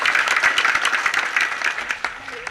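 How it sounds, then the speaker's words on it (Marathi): A kirtan audience in a Marathi devotional gathering claps loudly and steadily for a singer, dense applause filling the whole stretch without letting up. "जोरदार टाळ्या वाजवा"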